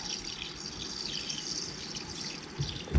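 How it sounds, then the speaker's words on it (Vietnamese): Tap water runs steadily while pig intestine is rinsed under it, a continuous close splashing trickle with soft bumps near the end. "Mình lấy cái vòi nước á, mình xả vào"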